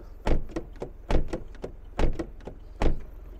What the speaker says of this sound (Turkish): Kapı seslerimiz bu şekilde.